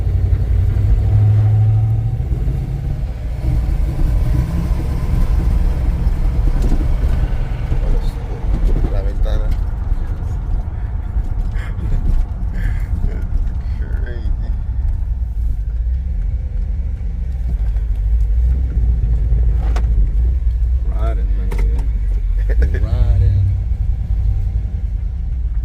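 A Hillman Imp on rotted tires is driven slowly, its engine giving a continuous low rumble from inside the car, with voices talking over it throughout.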